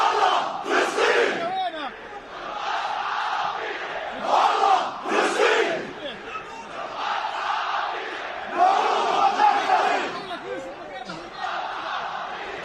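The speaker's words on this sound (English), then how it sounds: "I want you and the listeners to hear this football chanting of Al Wahdat Football Club." Al Wahdat Football Club supporters chant in a large crowd at a Jordanian football match, loud rhythmic massed voices rising and falling in repeated phrases for several seconds.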